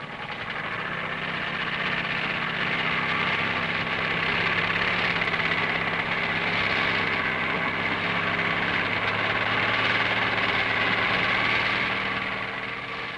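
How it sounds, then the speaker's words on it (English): A Land Rover's hydraulic drum and cable winch works to drag the vehicle out of thick mud, a steady droning engine and mechanical whine holding level for the whole stretch, close and continuous, with no voices. "the Land Rover can winch itself out of the thickest mud."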